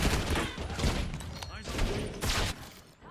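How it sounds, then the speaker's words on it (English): Hand cannon gunfire in Call of Duty: Black Ops 6, a run of loud, punchy shots and thuds in busy game combat, with game voice lines over the mix. "Using hand cannon."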